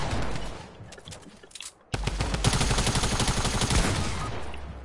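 Video game gunfire rattles in rapid automatic bursts, a brief lull then a sudden loud resumption of sustained firing, dense and close.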